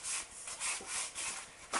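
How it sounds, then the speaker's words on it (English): Margarine rubbed over the inside of a cake tin to grease it, heard as close, soft scraping and rubbing strokes in an irregular back-and-forth rhythm with no talking. "how to grease a cake tin, this is how I do it."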